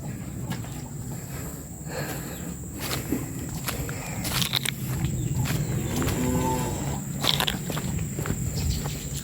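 Agitated Bali cattle moo outdoors over a steady ambient hiss, with footsteps and rustling around them; the lowing comes in a few separate calls at moderate distance.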